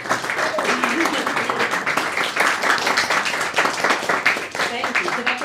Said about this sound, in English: And can we have a round of applause?